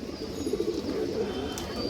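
A male army pigeon coos softly and continuously, a low burbling murmur heard fairly faint against light background noise.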